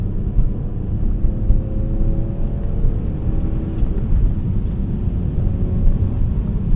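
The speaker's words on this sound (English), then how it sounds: "Ah, there's the downshift I wanted." A BMW E46 330i ZHP's inline-six engine drones steadily inside the cabin after a downshift, with a smooth, continuous hum and road rumble.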